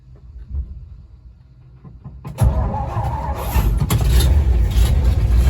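An abandoned 1959 Ford F100 pickup engine cranks briefly and catches, then settles into a loud, steady close-up running rumble with a slight rise in revs.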